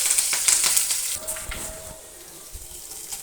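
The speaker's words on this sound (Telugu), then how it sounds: "స్టవ్ పెట్టి ఆయిల్ వేడెక్కిన తర్వాత ఒక స్పూన్ జీరా, కరివేపాకు, వెల్లుల్లి," Cumin seeds, curry leaves and garlic sizzle in hot oil, a bright crackling hiss that is loud at first and then eases, with a few soft knocks close by.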